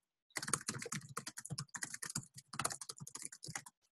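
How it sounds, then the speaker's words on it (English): Rapid, close typing on a computer keyboard clatters in fast, dense bursts of crisp key clicks with brief pauses, loud and alone in a quiet room. "that's gonna be really loud typing"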